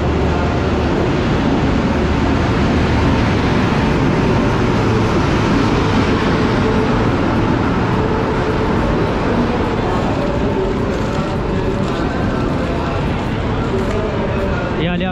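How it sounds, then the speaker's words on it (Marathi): Tamil Nadu Express at New Delhi, a loud, steady railway rumble and roar that continues throughout, with voices faintly present beneath it. "आपली ट्रेन तमिळनाडू एक्सप्रेस."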